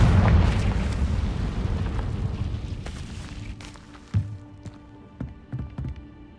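Confringo explosion spell in the Hogwarts Legacy video game, a loud booming blast that rumbles and fades, followed by several smaller thuds and pops.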